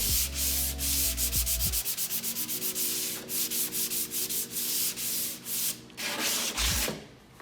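Sandpaper is rubbed back and forth over a Kia K7 car body repair surface, a close rhythmic scratchy rasping in repeated strokes with a brief harsher burst near the end.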